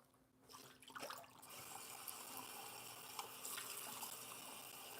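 Tap water runs steadily into a sink while watercolor painting water is changed, a continuous splashing gush that starts softly and swells to an even, close flow with no talking.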